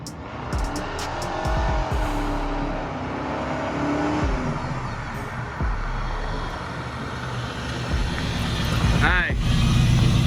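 A 1987 Chevrolet Monte Carlo pulls away into traffic, its engine droning steadily and rising as it accelerates, with road noise and a voice talking over it.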